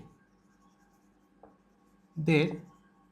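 A pen scratches faintly and steadily on paper as an answer is written by hand, quiet and close, with a short burst of voice partway through.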